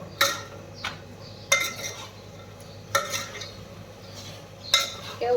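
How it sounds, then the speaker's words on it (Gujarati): A spoon stirs undhiyu vegetables with salt, chutney and coriander-cumin spices in a pot, knocking against the rim in four sharp, evenly spaced metallic clinks over a soft, quiet scraping bed. "હવે બધી મસ્ત એકદમ હલાવી લેવાની."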